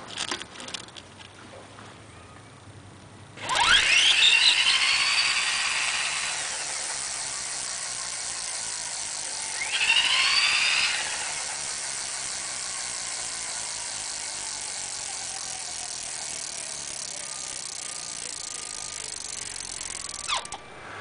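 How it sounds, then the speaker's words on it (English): A Tres Terra Callisto e-bike motor starts with a sharp high-pitched whine and squeal, then settles into a steady running hum. A second squealing surge comes midway, and the motor keeps running to the end without talk. "it just got a little bit of a high pitched squeal going on just on startup"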